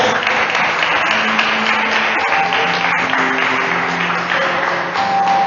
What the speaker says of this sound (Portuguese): Posso ouvir uma salva de palmas para Jesus?